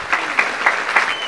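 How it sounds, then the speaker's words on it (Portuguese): A studio audience applauds for João at a talk show: steady clapping from a small crowd, close and fairly loud, with a few stronger accents standing out in the brief burst, no voices over it. "Palmas para o João, senhoras e senhores."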